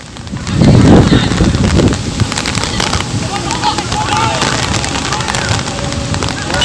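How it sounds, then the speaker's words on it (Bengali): Heavy rain falling on an open field during a college football match between AJC Bose College and Vidyanagar College, a broad steady hiss with wind buffeting the microphone, loud and continuous, a low rumble near the start. "আপনারা দেখতেই পাচ্ছেন বেশ বৃষ্টি শুরু হয়ে গেছে"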